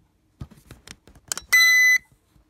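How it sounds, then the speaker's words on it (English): A 1996 CQR Cequra MK2 alarm bell box sounds its tamper tone, a loud steady electronic beep of about half a second, preceded by faint clicks and handling knocks. "I'm going to put the phone here, and I'm going to set it off on tamper"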